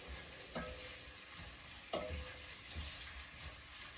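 Onion frying in oil for Nigerian rice stew hisses with a steady low sizzle, broken by a few soft clinks as it is stirred.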